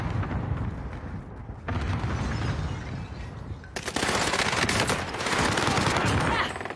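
Rapid automatic gunfire in a competitive shooter match, dense and continuous bursts with some louder close shots, loud throughout and mixed with other game sounds.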